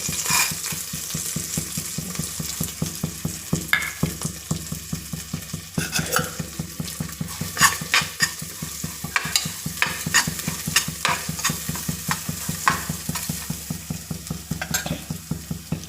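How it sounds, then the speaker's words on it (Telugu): Washed split moong dal with husk is stirred in a pan with ghee for pongal, a ladle scraping and clacking in a fast steady rhythm over a soft sizzle, close and continuous with no talk. "పొట్టు పెసరపప్పు కడిగి పక్కన పెట్టుకున్నాము వాటిని యాడ్ చేద్దాం ఇప్పుడు"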